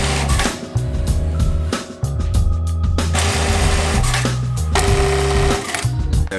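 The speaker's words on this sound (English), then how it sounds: "I'm literally just going to be going on the sewing machine and actually sewing my own backpack" A sewing machine stitches an ultralight backpack, running loud and close in bursts of rapid mechanical whirring with brief pauses between runs.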